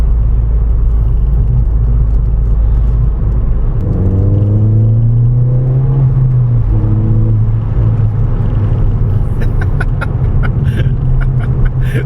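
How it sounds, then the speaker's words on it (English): A Ford Fiesta ST exhaust drones steadily under load while driving on a dry road, with a rising engine tone partway through and a constant loud road and cabin rumble throughout; no one speaks. "this exhaust is nice, man"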